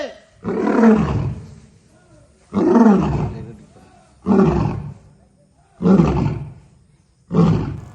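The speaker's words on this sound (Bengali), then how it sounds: "গর্জন দিতে বলার সঙ্গে সঙ্গে গর্জন দেওয়া শুরু করেছে" A lion at a safari park roars in five powerful bursts, evenly spaced about every one and a half seconds. Each deep, grunting roar is loud and close, with quiet pauses between them.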